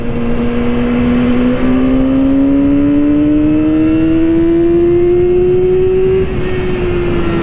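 Yamaha R6 motorcycle engine pulling hard during a ride, a loud steady rising drone as revs climb smoothly for several seconds before settling slightly, heard close from the rider's position over wind rush.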